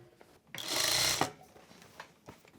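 A sewing machine runs top-stitching along a hoodie seam in one continuous whirring burst of about three-quarters of a second, close by, followed by a few soft clicks and handling sounds.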